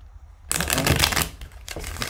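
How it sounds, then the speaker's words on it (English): Tarot deck shuffled and riffled by hand, a quiet pause then a dense burst of papery card flutter lasting over a second, a brief gap, and a second riffle starting near the end. "I just wanna give another shuffle and rifle on these."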